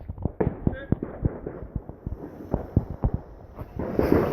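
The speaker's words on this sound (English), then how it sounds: "Fireworks. Back again." Fireworks go off on bonfire night as a rapid series of sharp pops and crackles, steady through the clip, with people talking and a louder rushing burst at the end.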